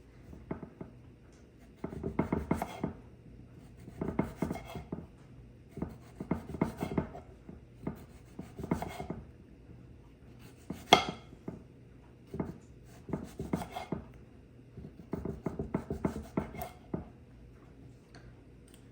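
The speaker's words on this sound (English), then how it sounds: "I will start by cutting my tomatoes, and these are the small ones" Knife slicing small washed and dried tomatoes on a cutting board, a series of close, crisp tapping cuts in short bursts with brief pauses between, no talking.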